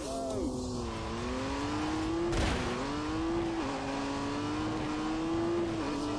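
Engine revving under full throttle in The Grand Tour racing video game, a steady harmonic drone that rises and dips with gear changes, loud and continuous, with occasional game effects layered over it.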